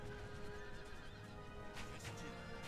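Cavalry horses neigh and whinny over a dense, continuous battle din as horse warriors charge in Empire Total War.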